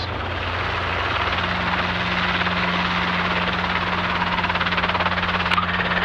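Helicopter engine and rotor whine steadily at close range inside the cabin as the aircraft comes light on its skids for liftoff on a solo flight, a loud continuous drone with a low rotor hum.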